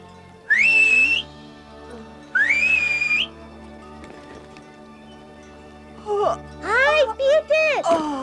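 A girl in the mountains whistles through her fingers: two loud, shrill, rising blasts about two seconds apart, then a burst of quicker, warbling whistled notes.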